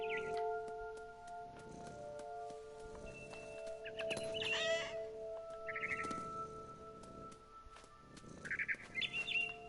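A mother bird chirping in the game What Remains of Edith Finch, bright intermittent tweets over sustained ambient game tones, with a few stronger calls toward the end.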